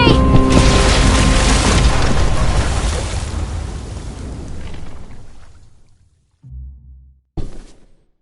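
A bomb goes off in The Walking Dead video game with a loud, close blast. The roar decays over several seconds, then near silence falls, broken by a couple of short thuds.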